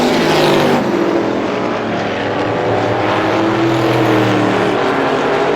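Super late model race cars roaring down the front straightaway at Star Speedway during a 350 Super Feature, a loud continuous engine drone with shifting pitch from nearby.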